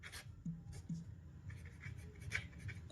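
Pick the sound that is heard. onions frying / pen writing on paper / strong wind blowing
pen writing on paper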